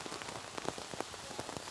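Rain patters steadily on an outdoor archery range during a compound women's team bronze match at the Shanghai World Cup, a dense hiss scattered with soft drop impacts and no voices.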